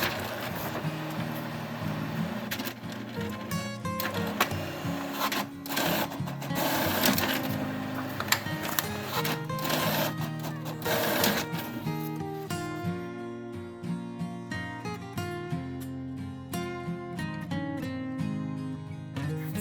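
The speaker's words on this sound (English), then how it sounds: "then you can start printing your 3 pages like this" A home printer runs a craft job of three pages for Valentine's home decor, whirring and clicking mechanically in a close, steady rhythm with busy feed and carriage passes, heard alone with no speech.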